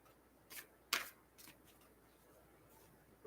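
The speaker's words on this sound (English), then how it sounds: "I have shuffled these cards quite a bit, so I'm confident that they are shuffled, but I needed to shuffle them for Aries." Tarot cards being shuffled by hand, a few short crisp riffling bursts spaced apart against a quiet, faint background.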